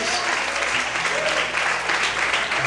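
Church congregation applauding steadily at a worship service, dense continuous clapping throughout with a faint voice underneath.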